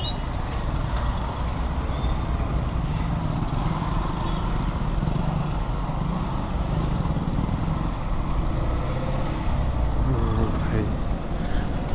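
A motorcycle rides through congested road traffic beside roadworks in Bhiwandi, its engine a steady low rumble under broad traffic noise and wind, with other vehicles passing nearby throughout.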